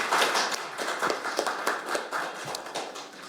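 Audience applause at a Korean policy forum on delayed post-war PTSD and veterans' policy, steady crowd clapping filling the room for a few seconds with no speech over it.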